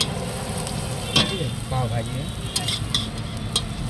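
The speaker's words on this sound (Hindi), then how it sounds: "अभी ये फ्राई हो रहा है ना।" Pav bhaji sizzles on a street-stall griddle while a spatula stirs and scrapes it, with sharp metallic clinks over the steady frying hiss and a few brief words spoken nearby.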